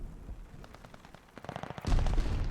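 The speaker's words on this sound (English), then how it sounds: "And Sinner just going to jump straight in towards some gunshots here." Gunfire in a competitive shooter video game, with a rapid series of sharp shots and bursts, growing denser and louder toward the end, with no talk.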